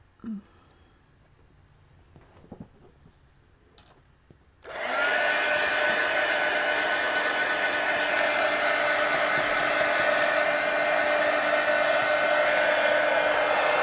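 After a few quiet seconds of faint handling, a hair-style dryer blasts on loudly and holds a steady, close whooshing roar over a mixed media art piece.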